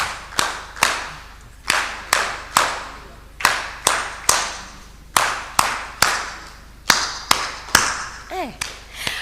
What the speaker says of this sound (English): Have we clapped for the facilitators?